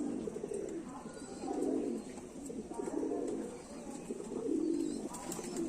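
A closed-tail pigeon gives low, throaty coos in three or four repeated swells, close and fairly steady over a constant background hiss, with no talk.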